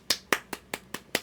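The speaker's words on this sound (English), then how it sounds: "that's me clapping" Six sharp, separate hand claps from one person, spaced evenly about a fifth of a second apart, close and fairly quiet with nothing else around them.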